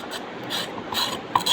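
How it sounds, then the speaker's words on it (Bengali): Snake gourd (chichinga) skin being peeled by hand at close range, a few short dry rasping scrapes in an irregular rhythm with brief pauses between strokes, no voices. "আগে চিচিঙ্গাগুলো আমরা এইভাবে ছিলে নিব।"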